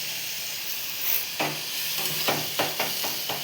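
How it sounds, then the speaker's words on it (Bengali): Spice paste with ginger paste and a splash of water sautéing in a pan, a steady close sizzle broken by several scraping stirs, with no talking. "দিয়ে তাকে মশলাটাকে ভালো করে কষিয়ে নেব"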